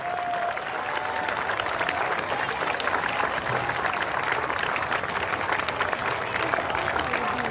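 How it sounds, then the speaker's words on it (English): Steady, dense applause from an audience at a youth softball closing ceremony, honoring the players; continuous clapping at moderate distance throughout, with faint crowd murmur beneath. "Let's give them a huge round of applause."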